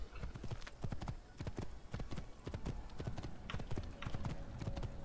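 Rapid, rhythmic hoofbeats of a galloping horse in the game Assassin's Creed clatter steadily throughout, close and clear, with no talking.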